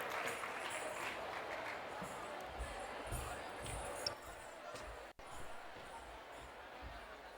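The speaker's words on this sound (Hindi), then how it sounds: "उत्साह की अभिव्यक्ति आपकी तालियों के माध्यम से हो रही है।" Audience applause at a university convocation cultural programme during a Shiv Tandav group dance, a continuous wash of clapping from a large crowd, fairly distant and steady, with faint voices mixed in.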